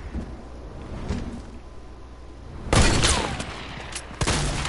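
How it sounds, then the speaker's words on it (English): Shotgun fire in a video game, with two loud booming blasts in the second half over a noisy background, the first followed by a rumbling tail. "Why are you using a shotgun?"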